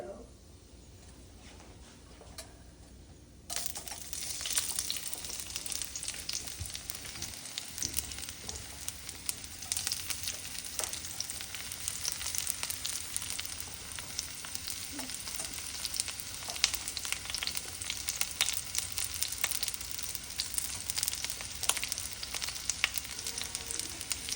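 Zucchini sizzles loudly in a hot pan for vegetarian carbonara, a steady frying hiss that jumps in after a quiet opening and carries on continuously, with people talking over it.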